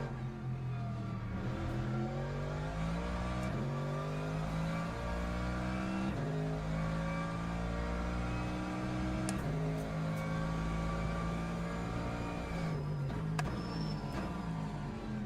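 Lexus race car in Le Mans Ultimate, engine note rising steadily through the gears with repeated upshifts and brief drops in pitch, a constant loud drone throughout.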